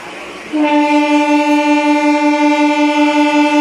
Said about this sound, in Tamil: ஒரு நீண்ட ஒலிப்பானுடன் நமது ட்ரெயின் திருத்தறையூர் ரயில் நிலையத்தை விட்டு புறப்பட்டு விட்டது